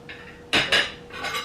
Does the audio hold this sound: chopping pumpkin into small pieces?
yes